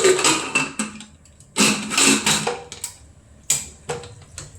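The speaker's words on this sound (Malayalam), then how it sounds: "കുക്കർ അടച്ചു വെക്കുകയാണ്" Several sharp metallic clicks and clanks in quick bursts as a pressure cooker lid is fitted and locked shut, close by.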